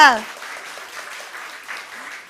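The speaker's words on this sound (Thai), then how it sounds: "ปรบมือดังๆอีกทีนึงค่ะ" Applause from an audience at an Atomy company presentation, a dense wash of clapping that stays fairly soft and steady after a brief voice at the start.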